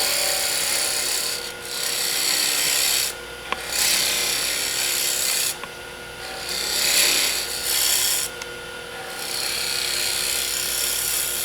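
A wood lathe turns a Christmas ornament while a tool shapes the tenon, making a continuous scraping hiss broken by several short pauses. The sound is steady and close.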